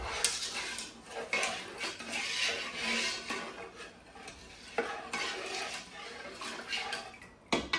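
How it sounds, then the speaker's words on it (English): Sweet pickle mixture stirred in a pot, with repeated clinks and scrapes of a utensil against the pot over a soft sizzling hiss, nearby and moderately loud, no speech. "we're going to give this a stir."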